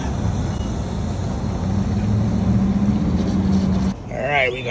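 A 1967 Pontiac Firebird engine runs with a steady, loud, low rumble that drops off near the end, where a voice talks over the remaining sound.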